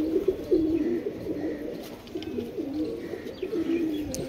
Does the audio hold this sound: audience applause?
no